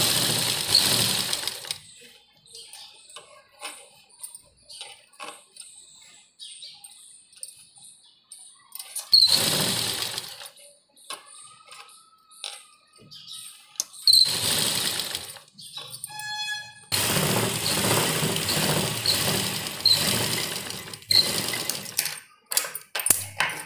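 Sewing machine stitching piping onto a cut sleeve piece, running in long steady bursts with pauses of handling between them, close and fairly loud.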